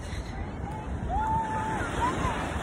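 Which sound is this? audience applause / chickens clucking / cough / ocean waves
ocean waves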